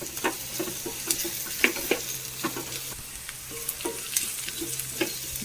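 Onions and chillies fry in a pan for brinjal upperi. A constant gentle sizzle runs beneath frequent sharp taps and scrapes from stirring, all close and without speech.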